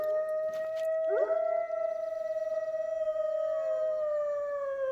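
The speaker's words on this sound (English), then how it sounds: "Alright, I hear wolves yelling." Wolves howl in the Yukon reserve of the hunting game theHunter: Call of the Wild, several long, steady, wavering tones layered together and holding across the whole stretch at moderate loudness, with no talk over them.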